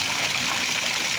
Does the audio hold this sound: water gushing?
yes